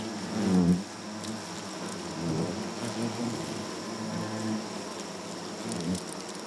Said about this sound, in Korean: 장수 말벌들로 꽉 찬 벌집